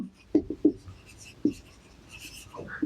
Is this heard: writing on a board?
yes